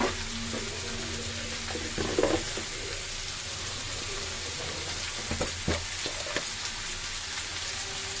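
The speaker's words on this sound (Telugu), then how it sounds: "వేసి బాగా ఫ్రై చేయండి." Mushroom butter fried rice frying in a pan, a steady close sizzle with occasional scraping stirs and clinks, continuous and alone.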